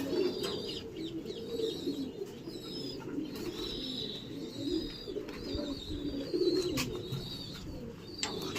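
Pigeons coo repeatedly in a loft, soft rolling calls close by over a low murmur of flock sounds.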